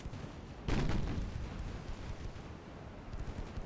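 Warship secondary guns firing HE shells in the naval game Ultimate Admiral Dreadnoughts, with one loud booming blast followed by a long rumbling roar that slowly fades, heard alone at a distance.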